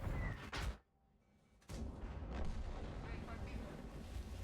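Artillery shell impacts in the tank battle game World of Tanks, several deep booming blasts, one sharp burst near the start and another around the middle, with continuous rumbling battle noise in between.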